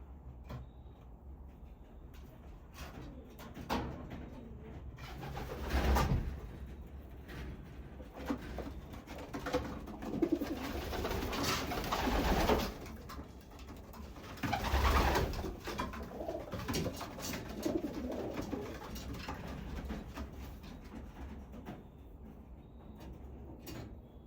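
Pigeon hens coo softly and repeatedly in a low, rolling murmur, mixed with occasional rustles, bumps and wing flutters.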